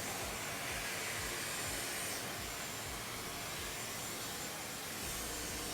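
Hair dryer roaring steadily during a brush blowout, its nozzle pressed against the brush to smooth the hair; a constant close airflow hiss that holds evenly from start to finish, with no voices.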